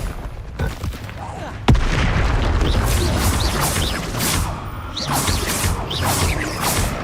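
Confringo explosive blast spells fire in Hogwarts Legacy, with a sharp blast followed by dense, sustained crashing and whooshing bursts under voices, loud and close.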